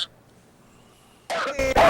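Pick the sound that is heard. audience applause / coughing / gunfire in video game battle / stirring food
coughing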